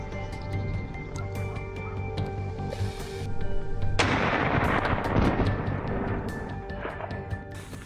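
A long-range scoped rifle fires at wild pigs on a mountain slope, producing a loud, close blast with a rolling, echoing tail over constant outdoor background noise, with a few lighter cracks around it.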